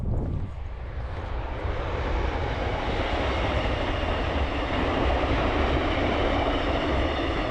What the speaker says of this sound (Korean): 길가 옆에 기차가 다니다니